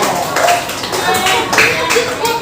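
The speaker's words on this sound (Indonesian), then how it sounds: "Buat tepuk tangan dulu untuk semua kelompok." A classroom of students claps for all the groups after their presentations, a short burst of mixed hand claps under overlapping voices and chatter.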